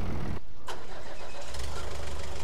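A car engine in the video game Farming Simulator cranks and catches, then settles into a steady, loud mid-pitched idle hum.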